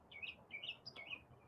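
Birds chirp in the morning, a quick run of thin, rising tweets, faint and somewhat distant over a low background hiss, with no voices.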